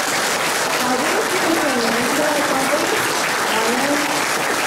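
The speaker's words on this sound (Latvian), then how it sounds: "Aplaus tagad visam aplaudam." Dense, steady applause from an audience fills the hall at a Christmas morning concert at Riga Jugla Secondary School in 2024, with a voice speaking over the clapping.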